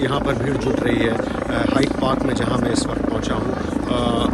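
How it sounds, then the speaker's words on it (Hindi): Helicopters drone overhead above a gathering crowd in Hyde Park, London, on the day of Queen Elizabeth II's funeral. The steady rotor rumble sits under a man reporting in a loud, close voice. "और अगर आप सुन सकते हैं ऊपर हेलीकॉप्टर्स की आवाज़"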